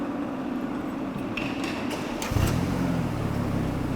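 A BMW engine cranks and catches to a steady low idle after a few light metallic taps, heard in a repair shop.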